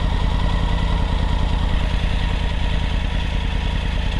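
A Triumph Tiger 900 motorcycle engine runs steadily during a night ride, a loud, close, even throbbing drone with constant pulsing and no break throughout.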